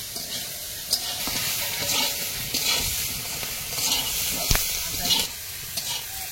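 Eggplant fries in oil in a kadai, a steady close sizzle with occasional clinks and scrapes of stirring.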